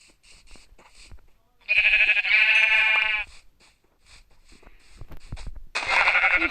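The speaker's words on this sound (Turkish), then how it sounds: "koyunlara bak arkadaşlar" Sheep bleat in the Craftsman video game. Several loud, drawn-out calls stand out above quieter game sounds, with one long bleat midway and another near the end.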